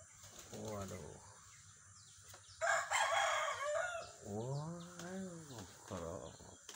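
A rooster crows nearby with a long, rising call, amid clucking and a burst of wing-flapping, while people talk quietly in the background.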